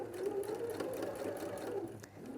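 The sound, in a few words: sewing machine stitching along a seam line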